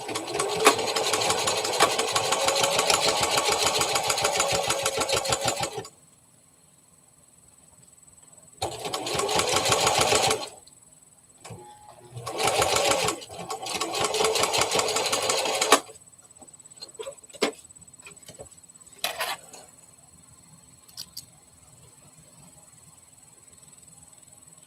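A sewing machine stitches a stuffed teddy bear in long bursts, first a steady run of about six seconds, then shorter runs with pauses between, loud and close, with faint handling noises in the gaps.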